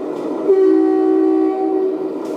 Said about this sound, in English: we've got a really nice horn on this one